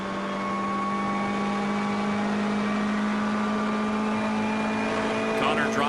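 Onboard a Hyundai Veloster race car, 350 horsepower and under 1,300 pounds, at a sprint race at Canadian Tire Motorsport Park: a steady, loud engine drone with a strong sustained hum and whining harmonics holding throughout.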